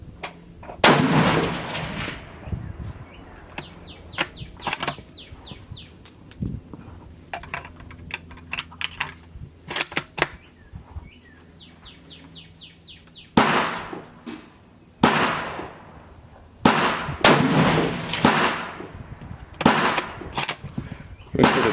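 Savage 111 Trophy Hunter XP .30-06 rifle fired at targets outdoors, several loud, sharp shots spaced seconds apart, each with a booming echo that rolls off, and quieter clicks and handling sounds in between.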